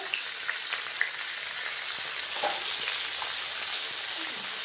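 Chicken pieces with turmeric powder frying in hot oil with onions, a steady low sizzle and crackle running throughout with a few sharper pops, fairly quiet and close.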